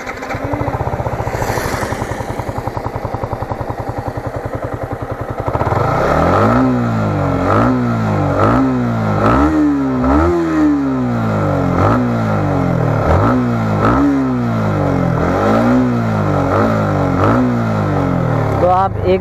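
A Yamaha MT15 BS6 motorcycle engine idles, then is blipped through a series of sharp, loud revs that rise and fall roughly every second, close up, with a voice talking briefly before the revving starts.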